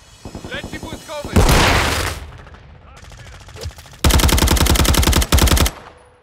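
Gunfire in Call of Duty Modern Warfare III, heard as long rapid automatic bursts and single shots mixed with explosions, loud and close, with game voices calling out between volleys.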